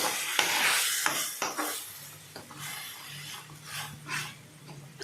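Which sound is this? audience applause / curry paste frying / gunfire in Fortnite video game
curry paste frying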